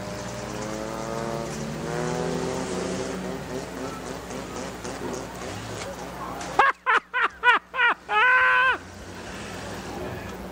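Race cars revving engines at Dixie Speedway during a reverse race start, a continuous roar with rising and falling pitch, followed by several sharp short bursts near the end.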